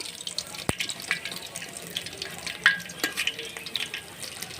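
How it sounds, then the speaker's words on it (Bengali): Pumpkin leaf fritters in a gram flour and rice flour batter fry gently over a low flame, a soft steady crackle with scattered small pops and a few sharper clicks, close by and without voices. "2 মিনিটের জন্য অল্প আঁচে ভাজতে হবে"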